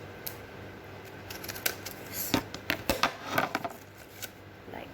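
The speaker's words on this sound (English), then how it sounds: "Now we will give it two cuts, one from here and one from here" Scissors snip through a folded paper sheet while a DIY secret message card is being made, giving a quiet run of sharp, irregular cuts and rustles that grow denser toward the middle.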